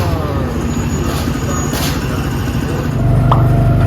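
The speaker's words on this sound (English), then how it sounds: "Here comes the car." A theme park ride car rolls into the loading area at Tomorrowland, a loud steady rumble with a brief squeak, growing heavier toward the end as it pulls up close.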